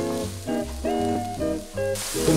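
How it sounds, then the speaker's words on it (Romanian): Smoked bacon and onions frying together in a pot, a continuous sizzle heard under prominent melodic background music throughout. "Când șunculița dă semne că se rumenește, vom adăuga ceapa."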